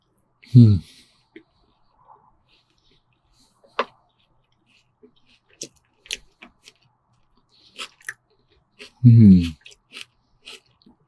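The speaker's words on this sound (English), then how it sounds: "Nice bit of crunch on the onion as well." Someone eats a McDonald's burger with crunchy onion up close in a quiet room, producing sparse small crunches and mouth clicks scattered between two short bursts of speech.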